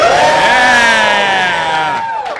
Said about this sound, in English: let's see if this one gets a bigger cheer